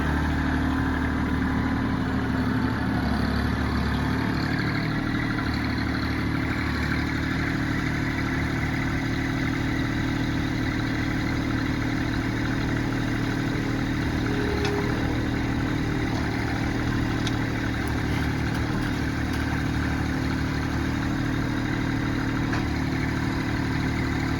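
A tractor engine runs steadily and loudly the whole time during log hauling, a constant low rumbling drone without pauses or obvious revving.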